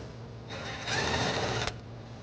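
A ratchet or power tool whirs steadily for about a second, backing out a 10mm bolt on a 2018 Infiniti QX60 during trailer wiring harness installation, close and fairly loud with no talking.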